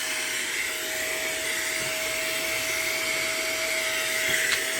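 A HŌM air duster and mini vacuum runs continuously with a steady high-pitched motor whine and airy rushing hiss, close and even in level throughout, with no talking.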